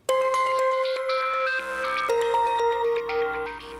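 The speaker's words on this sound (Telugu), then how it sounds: "ఫోన్ చేస్తుందేమిటి?" An incoming call sets off a phone's melodic electronic ringtone, a bright, clear tune of repeating tones that plays loud and close with no one speaking over it.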